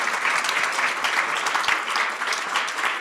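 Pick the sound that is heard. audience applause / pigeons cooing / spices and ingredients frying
audience applause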